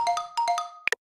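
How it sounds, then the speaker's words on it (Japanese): A phone ringtone signals an incoming call: a bright, bell-like electronic melody of several quick tones, followed by two short sharp beeps, then silence. "橋本さんから電話だ"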